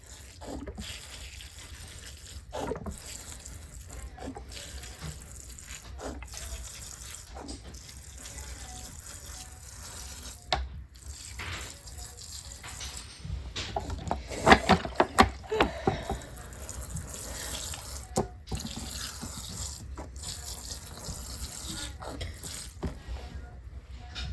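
Water runs and splashes from a tap for watering sweet pea seedlings, steady and close, with occasional clinks and handling noises around it.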